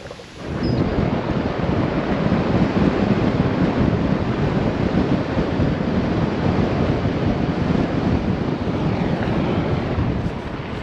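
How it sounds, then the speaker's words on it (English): Strong wind blowing outdoors at Yarra Yarra Lakes in Australia, a loud, steady broadband roar with heavy microphone buffeting that holds constant and unbroken throughout, with no talking. "And the wind has picked up, which is a bugger."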